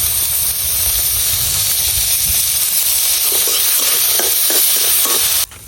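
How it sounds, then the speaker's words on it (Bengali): Onion and garlic frying in a little oil for a Bengali bhorta, a steady close hiss and sizzle with faint stirring clicks near the end. "এই যে আমার পেঁয়াজ রসুন গুলা বাজা কিন্তু হয়ে গেছে"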